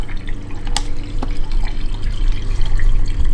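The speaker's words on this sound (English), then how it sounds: "You can see the water is just going right into the fill hose and then back into the fresh tank." Water runs steadily from the freshwater fill hose into the fresh tank of an Airstream Caravel travel trailer outdoors, a continuous close splashing flow with a few brief drips, heard alone.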